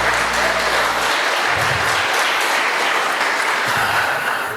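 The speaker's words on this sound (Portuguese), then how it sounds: "Você pode dar uma salva de palmas para o Senhor?" A church congregation claps together, dense sustained applause filling the room, loud and close, with a low hum of voices under it.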